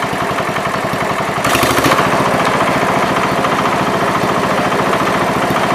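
A John Deere 110 lawn tractor's small engine runs steadily nearby, then rises slightly in pitch as it is revved up a little and holds at the higher speed, loud and alone.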